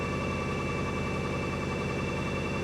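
An ebike motor spins freely at very high RPM, giving a constant dense whine and hum that holds steady and loud throughout, with no voices over it.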